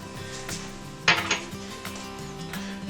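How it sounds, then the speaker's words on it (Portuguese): A spoon stirs black garlic soufflé mixture slowly in a bowl, with soft scraping and one sharper clatter of utensil against dish partway through, then quieter movement. "E vamos mexer lentamente."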